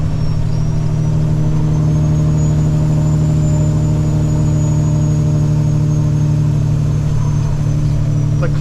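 A truck engine with a 13-speed transmission labours in low gear up a small bridge, a loud, steady, close droning hum that holds even throughout without talk.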